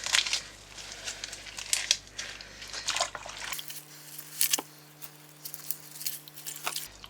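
Washed foraged wild garlic leaves are shaken to get rid of water, giving a run of soft crinkling rustles and light droplet patters, close and fairly quiet, with irregular bursts spread across the whole stretch.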